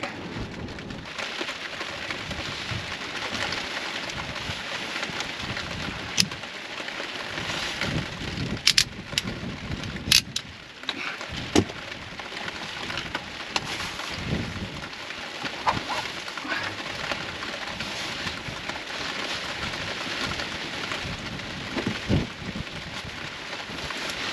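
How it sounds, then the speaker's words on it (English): Steady rain falls continuously, a dense hiss of drops on surfaces, with occasional sharper splashes and a faint distant rumble. "it's raining again"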